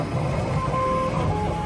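A Bambu Lab P1S 3D printer runs steadily through a print, a continuous close mechanical whir with faint stepper-motor whines rising and falling over it.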